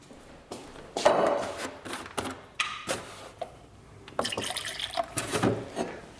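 Milk poured into a mixing bowl in a kitchen cook-along: a few short liquid splashes and drips, fairly close and soft, in separate bursts with brief pauses between them.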